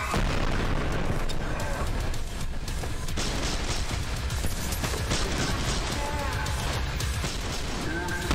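Grenade blasts and gunfire in the first-person shooter Trepang2, a dense, loud barrage of booming explosions and rapid shots that runs continuously throughout, with brief talk underneath.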